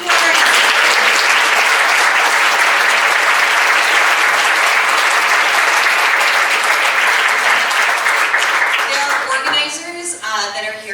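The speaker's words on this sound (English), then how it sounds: "So if we could just give everybody a round of applause for being here." A full room at a political event bursts into loud, sustained applause that rolls on steadily, then thins out near the end as a voice begins speaking.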